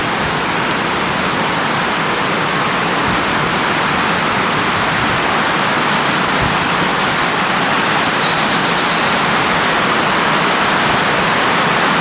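Birds chirp in a park beside the River Dane, with several short high calls heard in the middle over a loud, steady rush of flowing water.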